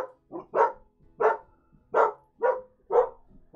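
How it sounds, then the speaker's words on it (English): Several dogs barking in loud, repeated bursts roughly every three-quarters of a second, close by and with no talk over them. "My goodness, dogs are going crazy."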